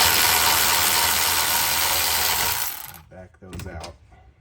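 A ratchet wrench backs out bolts on the rear wheel assembly of a 2010 Honda CR-V 4WD, a loud continuous mechanical clicking whir that stops abruptly, followed by a few scattered clanks.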